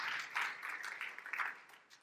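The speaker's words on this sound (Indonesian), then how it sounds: "tepuk tangan yang meriah untuk kemuliaan nama Tuhan" Hands clap together as a church congregation applauds during a sermon, a short, moderately loud burst of even clapping that fades out.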